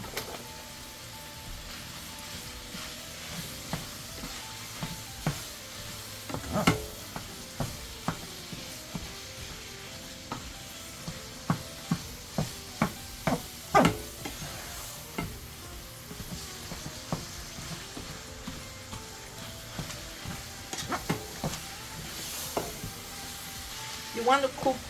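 Ground beef sizzling in a pan while a utensil breaks it up, a low steady hiss punctuated by many sharp scraping and tapping strikes, irregular and close throughout.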